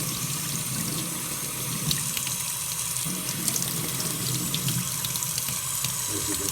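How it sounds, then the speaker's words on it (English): Water runs steadily from a tap over a motorcycle boot, a continuous loud splashing hiss with slight changes as the stream hits the footwear. "I'll run it under the water just to show you what it's like"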